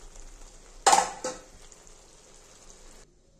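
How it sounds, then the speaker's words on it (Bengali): A spoon stirs small fish curry with potato and eggplant in a pan: one loud scraping clatter followed by a lighter second knock, then a faint steady sizzle that cuts off. "আমি একটু হালকা করে এবার নেড়ে দেব।"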